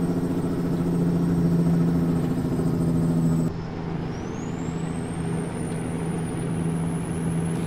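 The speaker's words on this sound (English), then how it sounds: "I've got a Cat C15 500 horsepower underneath the hood right now." A truck with a Cat C15 500-horsepower engine runs steadily at a low idle and holds a constant drone, with a brief drop in level partway through and a faint high whine that rises afterward.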